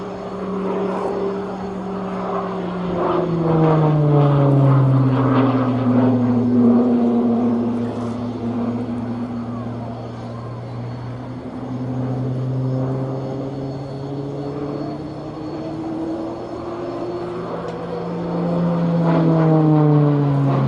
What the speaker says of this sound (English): This is Liam's first season as a display pilot, and the Tucano's final year as a display aircraft